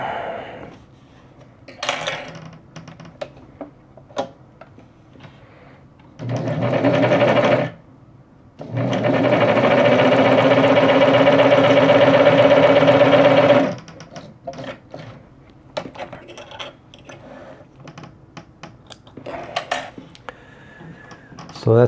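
Singer 513 sewing machine stitching a zigzag on light material, two bursts of steady mechanical whirring and needle clatter, a short one then a longer run of about five seconds, with quiet handling sounds between.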